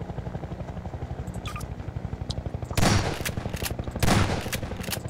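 A helicopter in the video game Garry's Mod thrums with a steady rhythmic rotor chop, interrupted by two loud bursts of rapid gunfire near the midpoint and end.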